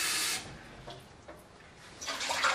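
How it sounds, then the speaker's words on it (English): Two cups of water poured into a cooking pot for kasha, a soft splashing rush that is louder at the start, dips in the middle and swells again at the end, with no talking. "then we take 2 cups of water."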